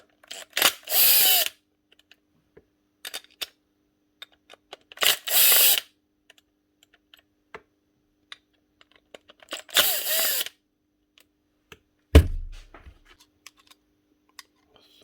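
A handheld power tool driving out the screws that hold the blade-holder plates of a power tool under repair: three short whirring bursts spaced a few seconds apart, close and loud, with small clicks and taps between and a final clunk.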